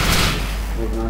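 Gunfire in the video game DayZ, a fast burst of overlapping shots that fills the whole short moment, loud and close with a sharp crack near the end.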